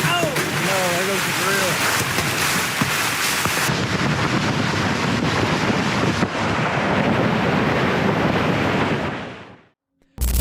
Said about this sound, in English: bracing against the violent gusts